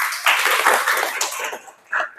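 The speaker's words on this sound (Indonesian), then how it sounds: "Oke, sekali lagi tepuk tangan dong buat kita." Students in a classroom give a short burst of group hand clapping that fades, then rises again briefly at the end.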